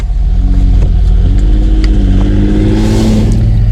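A classic Austin-Healey sports car's deep exhaust note rumbles steadily and loudly, rising slightly as the engine revs up toward the end, with no talking.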